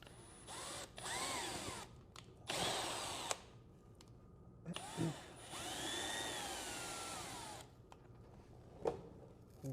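A power drill drives a screw into a foam taxidermy form for a bobcat mount, whining in several bursts of a few seconds each, rising and falling in pitch with pauses between, close and loud.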